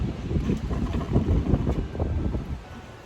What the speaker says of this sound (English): this wind, I tell you.